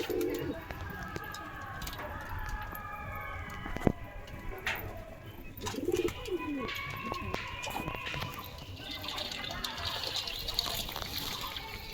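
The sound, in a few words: pigeons bathing in water in the sun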